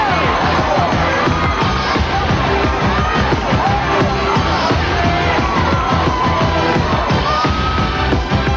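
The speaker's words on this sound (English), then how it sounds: "The crowd is electric." Loud, continuous crowd roar and cheering fill the stands at a 2000 high school football game between Seminole and East Bay, with scattered shouts rising over the dense, sustained noise.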